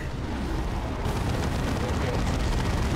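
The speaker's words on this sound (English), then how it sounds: "let's go make him feel welcome with a orbital barrage" Continuous rumbling blasts from an orbital barrage in the Warhammer 40K: Dawn of War 2 Chaos Rising strategy game, a dense, low roar of overlapping explosions that swells after the first second and holds at a steady, moderately loud level.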